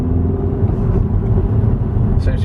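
A salvage Audi A3 2.0 TFSI engine drones steadily while driving, a loud low rumble with road noise heard from inside the car.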